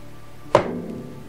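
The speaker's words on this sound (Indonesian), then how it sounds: "Pintu terbanting." A single sharp thud with a brief ringing decay, like a door banging shut nearby, against a faint steady hum.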